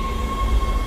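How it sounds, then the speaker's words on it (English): A tram in the video game Dead Space pulls into the flight deck station aboard a spaceship, a low rumbling rail drone with a steady electronic hum, heard alone and close. "Tram arriving at flight deck station."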